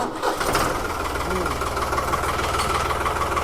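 A New Holland 3600 tractor with low running hours runs close by with a loud, steady diesel throb and a slight rise in revs, while people talk quietly under the engine.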